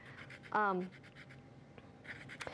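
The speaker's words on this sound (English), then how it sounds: "we're using one of the new tools here in our cooking lab that is a zester" Lime zest is scraped off with a zester in a cooking lab, making short dry scratching strokes close by, mixed with someone talking.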